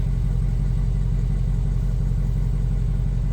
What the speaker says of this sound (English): let's have Trish have some fun with the exhaust